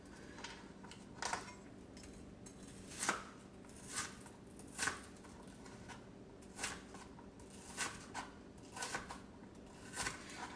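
Onions are chopped with a knife on a board: a series of sharp, close taps arriving every second or so, some in quick doubles, over a quiet kitchen background without talk.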